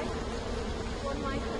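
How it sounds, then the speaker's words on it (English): A steady, close insect buzz of bees droning continuously in a video game, holding an even, moderate level throughout without pause. "I hear bees."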